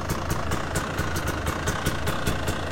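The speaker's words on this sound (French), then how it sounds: "On a Rudy avec son quad." A quad bike idles steadily at close range before an off-road trip through Spain, its engine giving a continuous rumble with a faint regular pulsing throughout and no voices.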